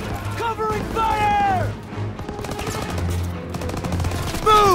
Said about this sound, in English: Keep pressure on that MG! Move up!